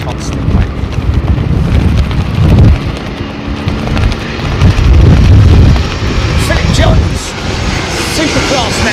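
Strong, constant wind at London Heathrow Airport roars and buffets the microphone in a heavy, rumbling wash, with a voice talking faintly underneath.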